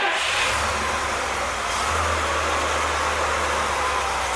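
A 1964 Pontiac 389 V8, freshly rebuilt, rumbles loudly nearby as it catches and revs, settling into a steady low throb without any voices.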